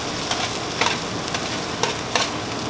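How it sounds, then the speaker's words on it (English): Jalapenos searing in a pan alongside leeks give a constant close sizzle and crackle. Several soft scrapes of stirring or tossing cut through it at intervals, and nobody speaks. "the jalapenos, they're getting a nice sear on them too"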